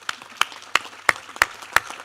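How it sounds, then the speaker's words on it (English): Conference attendees give a round of applause, heard as sparse, evenly spaced single claps about three per second standing out sharply over quiet room noise. "A warm applause again."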